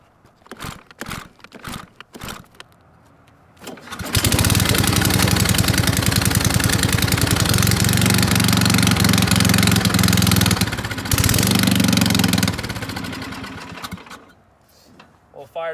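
A snowblower engine without its muffler, pulled several times with sputters, then fires and runs very loud and raw for about ten seconds before dying down, with a brief voice near the start.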